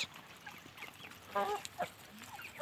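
Brahma chickens and ordinary village hybrid hens cluck in a few short, scattered calls at close range over a quiet background.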